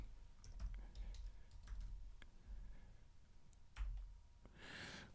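Keys on a computer keyboard tapped in a few short, quiet bursts of clicks, with soft pauses between and no talking.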